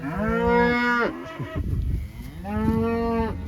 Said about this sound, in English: Cows are squalling about it a little bit.